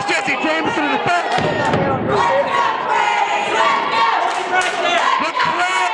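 A loud professional wrestling crowd in Rogersville roars and yells continuously during a PWF title match, the dense din rising and falling with thuds from the ring mixed in.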